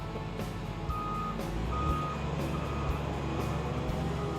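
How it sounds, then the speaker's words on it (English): A Doosan excavator's travel alarm beeps at a regular, steady rhythm while the machine moves back and forth, over a low idling diesel engine rumble. "Move the machine back and forth, checking the travel alarm or other motion alarms for proper operation."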